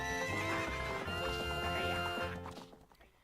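Epona the horse in the Zelda: Ocarina of Time video game gives a loud, drawn-out neigh over rhythmic clip-clopping hooves, with game music behind, before fading out.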